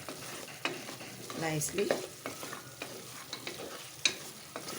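Spices fry in a pan for a mutton curry, a continuous sizzle broken by repeated stirring scrapes and a few sharp utensil clinks, close and fairly loud, with a brief word spoken over it.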